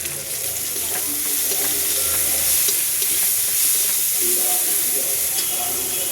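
Chopped tomato hits a hot pan of frying ginger and garlic for a homemade egg curry gravy, letting out a steady, loud hiss and crackling sizzle that continues throughout.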